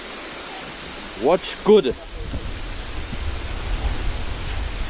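A hidden waterfall at Matelot gives a steady broadband rush of falling water throughout, with a few brief spoken words close by near the start.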